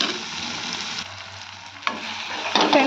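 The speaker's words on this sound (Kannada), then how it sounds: "ಫ್ರೆಂಡ್ಸ್ ನೋಡಿರಿ ಎಲ್ಲನೂ ಚಂದ ಫ್ರೈ ಆಗ್ಯಾವಲ್ರಿ" Chopped tomatoes sizzle and fry in a pan for upma, a steady crackling hiss with a couple of sharper stirring scrapes near the end, close up and with no talking.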